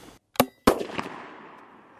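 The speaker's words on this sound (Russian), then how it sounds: "Заряжайте гранату, и вы готовы стрелять." An ML-36 airsoft grenade launcher fires twice in quick succession, two sharp close bangs about a quarter second apart, the second followed by a ringing, decaying tail and a smaller pop.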